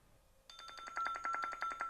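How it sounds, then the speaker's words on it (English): An incoming-call ringtone sounds from a Cardo Scala Rider Freecom 4 motorcycle intercom. It starts abruptly after a brief quiet moment, then repeats as a bright, pulsing electronic melody, close and steady, with no talking. "There's a call coming."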